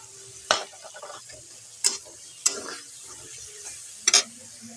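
Spiced tomato curry with beans, radish, brinjal and potato being stirred and sautéed in a pan, with soft sizzling and several sharp spoon-against-pan knocks spread irregularly through a quiet background.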